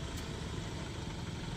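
Hyundai Grand Starex van engine idling, a brief, faint, even low hum with no voices.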